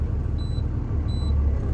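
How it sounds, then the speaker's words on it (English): Heavy truck engine idles low and steady in gear, rumbling against set parking brakes during a Minnesota CDL pre-trip check, with faint high air hiss chirps twice over a constant low drone. "I'm gonna walk out the clutch, but if you're in an automatic, you just kind of gently press the gas pedal like such"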